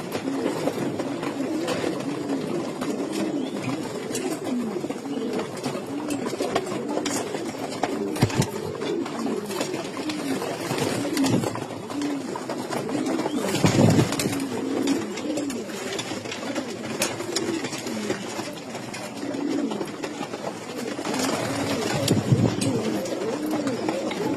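Racing pigeons coo continuously inside a female loft holding about 25 young birds, with layered, overlapping low throaty calls close by and occasional louder bursts.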